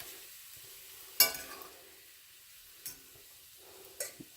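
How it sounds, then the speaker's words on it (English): Dandelion greens and onions are stirred in a skillet over a faint, low sizzle. Three sharp utensil scrapes and clinks stand out clearly at intervals, with no speech. "Just stir it up good."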